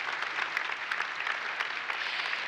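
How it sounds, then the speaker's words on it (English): Dense, steady applause from an audience at a vocational excellence forum, many hands clapping together in a continuous even patter with no pause. "we are already asking for a big applause for them"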